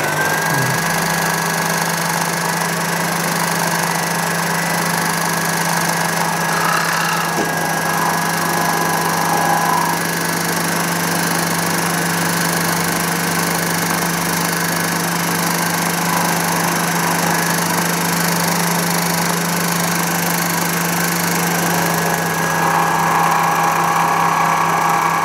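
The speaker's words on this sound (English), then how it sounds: "it's just easier to chop the bulk of it off using the bandsaw" A bandsaw cuts through a metal workpiece for a lathe carriage stop modification, giving a loud, constant motor drone and blade whine that runs unbroken throughout.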